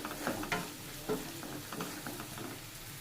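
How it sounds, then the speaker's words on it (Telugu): Onions sprinkled with salt frying in a pan, a soft continuous sizzle broken by a few spatula scrapes and stirring knocks, close and fairly quiet, without speech. "ఆనియన్స్లో కొద్దిగా సాల్ట్ వేసుకుందాం ఆనియన్స్ త్వరగా ఫ్రై అవుతాయి"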